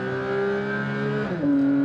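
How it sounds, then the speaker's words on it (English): A Porsche 992 GT3 engine revs up with a close, loud, sustained tonal wail that climbs steadily and then shifts to a higher pitch as the revs build, with no voices over it. "you just let the revs build, and like you just enjoy the scream"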